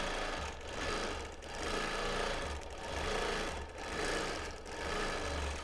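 A sewing machine stitches a memory quilt of mixed fabrics, its motor humming with a steady rapid needle chatter that swells and dips in regular waves, close and alone without talk.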